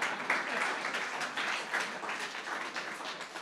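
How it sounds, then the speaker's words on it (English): A crowd applauds at the official opening of a corporate headquarters in downtown Kingston: steady, dense clapping holds at an even level through the whole stretch, with no voices on top. "give me a round of applause"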